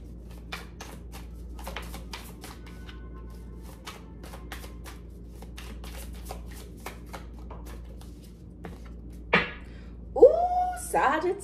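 Tarot cards being shuffled by hand, a run of quick crisp riffling taps and flicks close up against a quiet room hum, followed near the end by a few louder card handling sounds and a short burst of speech.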